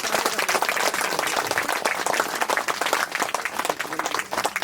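Loud, dense applause from many hands clapping at once, sustained and close throughout.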